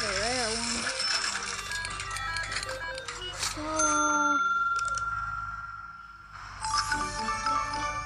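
A school bell chime from a video game rings out in bright, bell-like tones among jingly pickup sounds, a clear ringing passage in the middle that fades and then returns.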